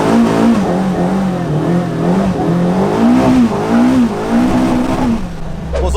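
A Caterham 420R sports car pulls away and drives off. The engine sits loud and close as its drone rises and falls through the gears, with a brief sharper sound at the end.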